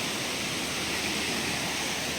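A waterfall of clear water pours over rocks along a forest stream, making a steady, full rushing roar. The sound is close and unbroken and carries no voices.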